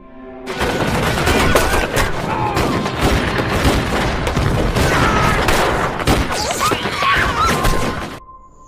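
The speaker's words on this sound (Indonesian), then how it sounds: "ada seorang pria yang melempar bom molotov tepat ke dalam rumah yang membuat baku tembak tak terelakkan lagi" Gunfire in a film shootout after a Molotov cocktail is thrown into a house, heard as a loud, dense barrage of shots and crashes that runs for about eight seconds.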